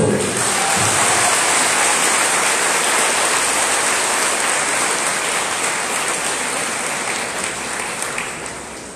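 A crowd at a municipal swearing-in ceremony for a town president in Mexico breaks into loud, dense applause that holds steady throughout and fades only slightly at the end.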